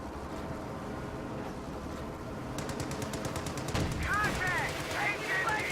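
Video game gunfire: a rapid burst of automatic shots breaks through a low background rumble, then more scattered shots follow, with a voice speaking over it.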